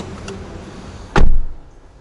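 The door of a 2020 Nissan Almera swings shut with one solid, close thump, followed by a short fading rumble in a fairly quiet car interior.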